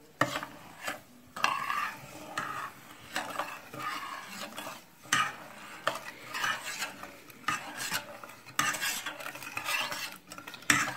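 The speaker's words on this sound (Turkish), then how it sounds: "Böylece bunu karıştırarak pişireceğiz" A spoon stirs a thick poppy seed and semolina milk dessert cooking in a pot, with repeated scraping strokes against the metal and soft clinks in an uneven rhythm, close and moderately loud, with no talking.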